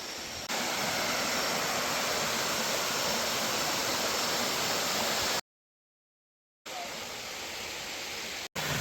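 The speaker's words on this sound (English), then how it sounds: "This little mini waterfall isn't even one of the marked ones." Small unmarked waterfall beside a trail in Khao Lak, Thailand, pouring as a steady broadband rush of water, close and loud, continuing without voices and broken only by a brief dropout.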